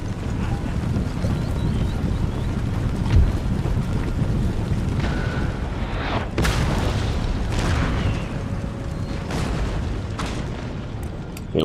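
Cannons firing in a Total War Empire battle as the Russians, heard as dull booms scattered through a steady rumbling battlefield wash, with a few sharper cracks rising near the middle.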